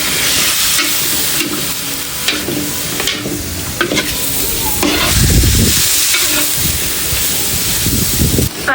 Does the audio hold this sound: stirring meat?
yes